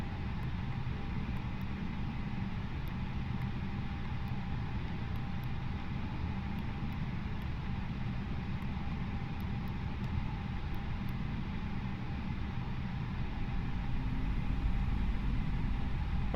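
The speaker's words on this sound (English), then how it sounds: "Alrighty, taxi's now underway." An easyJet airliner taxis toward the runway in a flight simulator. Its engines make a steady low rumble and hum that carries on unchanged for the whole stretch, swelling a little near the end, with no talking.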